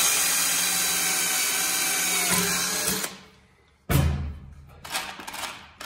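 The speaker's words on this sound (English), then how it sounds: "just drill a hole." A power drill whines steadily for about three seconds drilling a hole in sheet metal, cuts out, then gives two shorter bursts, the sound close and harsh.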